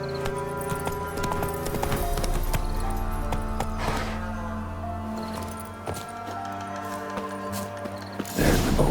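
In The Witcher 3: Wild Hunt Next Gen, the horse Roach trots along with a steady, close clip-clop of hooves over a bed of game music and ambience.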